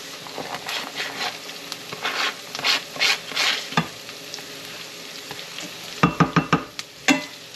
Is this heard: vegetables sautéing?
yes